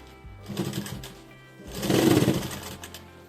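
A sewing machine stitches a three-piece princess-cut blouse, running in two close, whirring bursts, the second longer and louder, with a short pause between.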